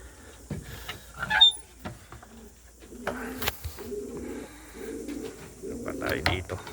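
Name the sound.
racing pigeons cooing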